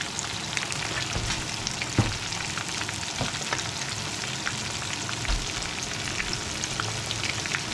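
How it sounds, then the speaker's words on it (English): Fish frying in a pan, a dense continuous sizzle and crackle with a few sharper pops and stirring clinks, close and steady without any talking. "There we go, frying the fish."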